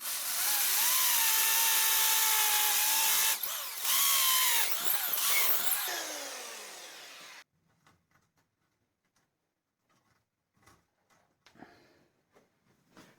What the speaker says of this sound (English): So I'll drill holes from the outside and push straws through